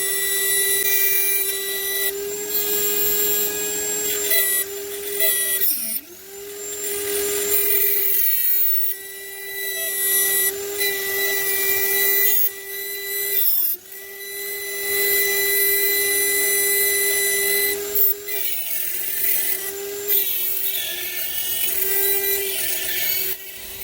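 Mini lathe cutting an o-ring groove, with a steady motor hum and a scraping, rasping cutting tone that dips and shifts as the tool feeds into the work, continuous and close.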